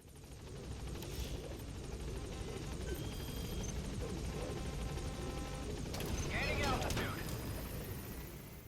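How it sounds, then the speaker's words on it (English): A helicopter takes off in Metal Gear Solid V: The Phantom Pain, its steady, loud rotor and engine roar holding for several seconds and swelling slightly near the end. "You take off and wait some more for it to clear the area."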